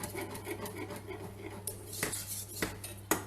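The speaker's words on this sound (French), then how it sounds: "un fouet, hop, je touille ma crème pâtissière pour pas qu'elle attache" A metal whisk stirs pastry cream in a pot, making soft, continuous scraping and light clinks, with a few sharper taps against the pot's side, quiet and close over a steady low hum.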